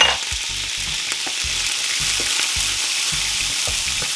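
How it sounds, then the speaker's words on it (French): Garlic gently sautéing in a pan after a lemon-juice deglaze for pan-fried skate wing, a steady close sizzle with soft stirring bumps throughout. "L'ail va revenir un tout petit peu, gentiment."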